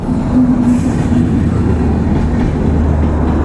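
A train rolls along a rail line near the Farakka barrage with a loud, close, continuous rumble and low mechanical droning, heard alone.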